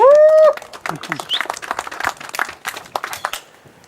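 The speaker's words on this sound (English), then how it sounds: "Ross, come out the front here, please. From Managing Director of Hostinge. Round of applause." Scattered audience clapping greets the builder of a hemp decorticator, starting after a brief tonal squeal and continuing as an uneven, moderately loud patter with voices mixed in before tapering off.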